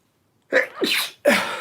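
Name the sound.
sneeze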